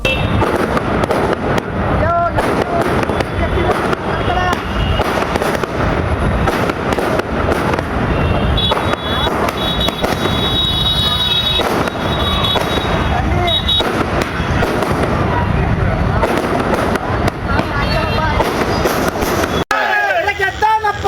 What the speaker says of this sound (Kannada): ಕಾರ್ಯಕರ್ತರು ಪಟಾಕಿ ಸಿಡಿಸಿ ಸಂಭ್ರಮಾಚರಣೆ ಮಾಡಿದರು